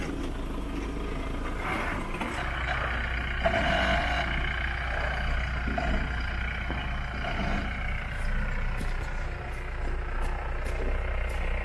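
A 4x4's engine idles and grumbles at low revs on a rocky off-road track at Ourimbah, NSW. A steady deep rumble runs throughout, with mechanical creaks and faint higher clicks near the end.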